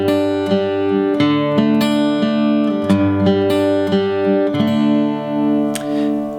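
Guitar picking pattern, played slowly and cleanly with plucked notes ringing in an even, steady rhythm, close and clear with no talking.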